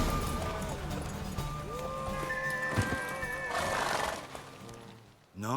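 A horse in The Witcher 3 neighs and whinnies repeatedly with long, wavering calls, joined by hoofbeats and game sounds, ending abruptly in a brief crash.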